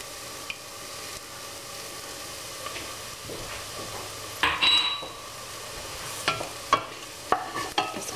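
Garlic stirred into lightly browned beef and pork meatballs in a pan, a soft background sizzle broken by several clinks and scrapes of a utensil against the pan.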